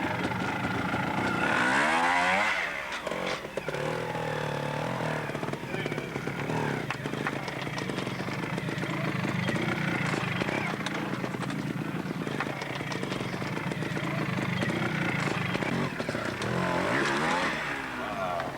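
An Aprilia trials motorcycle at the 1990 Observed Trials World Championship in Globe, Arizona, revving in short bursts and blips while picking its way over rough ground, mid-distance, with outdoor ambience throughout.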